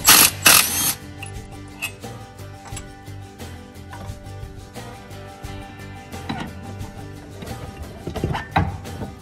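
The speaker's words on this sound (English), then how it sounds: "we're going to go ahead and take the bolt out that holds the secondary in" Ratcheting clicks and metallic tool clatter ring out close by as a bolt is removed from a Polaris ATV secondary clutch, with a sharp burst at the start and then irregular mechanical ticks.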